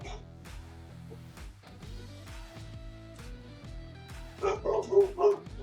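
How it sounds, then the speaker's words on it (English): A dog barks a few times nearby, with sharp yips and barks bunched toward the end, over quiet background noise. "Must be a dog walking by."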